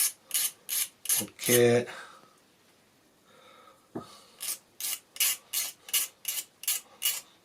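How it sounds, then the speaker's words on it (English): Burrs being filed off a cut model railway rail for a turnout: a quick run of rasping strokes, a pause, then a steady series of about nine even, close filing strokes, with one brief spoken word. "I'll just take off the burrs."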